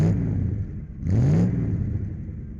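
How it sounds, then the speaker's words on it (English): The 1.0-litre engine of a 1982 Ford Fiesta Mk1 Popular revs nearby. It idles, swells into one brief rising rev, then settles back to a steady hum. "we're going to take this lovely original example of a Mk1 Fiesta Popular for a drive"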